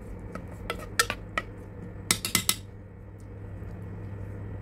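Green dal with sprouts and drumsticks is stirred in a pressure cooker, a spoon scraping and clinking against the metal pot in a few scattered, sharp knocks over a low kitchen hum.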